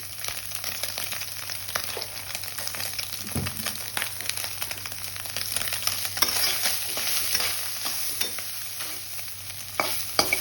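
Soybean chunks seasoned with turmeric and salt fry in hot oil, giving a steady close sizzle broken up by scraping stirs and scattered crackling pops throughout.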